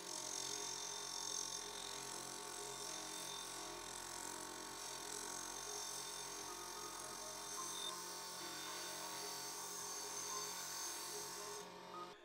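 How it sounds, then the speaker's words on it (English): Steady abrasive whirring and rasping of a rubber sanding drum smoothing a CR250 motorcycle shock body, continuous and fairly close, with no talking. "I'm gonna touch all this up with the rubber sanding drum"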